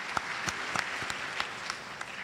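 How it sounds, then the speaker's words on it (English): An audience claps at a national development programme launch ceremony, sounding like a thin, steady patter of scattered claps from a modest crowd throughout. "How about a round of applause for the majority and minority side?"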